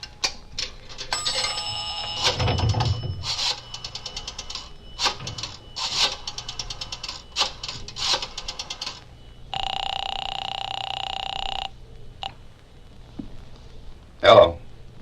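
An old-fashioned rotary telephone is dialed with whirring, clicking pulses in a drugstore phone booth, followed by a steady ringing tone through the receiver, in an old-time radio drama with faint voices at moments.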